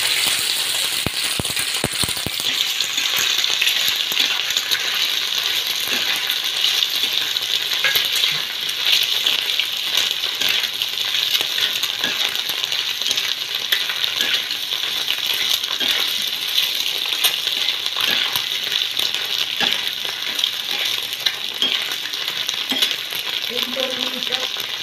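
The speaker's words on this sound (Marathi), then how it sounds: "आता हे उकळलेले अंडे फोडी करून घेतल्या, ती थोडंसं आपण तेलामध्ये फ्राय करून घेऊया" Boiled egg pieces fry in oil on a tava, giving a steady, close sizzle with faint crackles that runs without a break for the whole stretch, with no voices.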